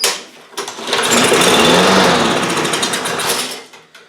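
A lawn mower engine with a dirty carburetor runs loud and close, a buzzing rough idle that swells and then fades as it starts to die.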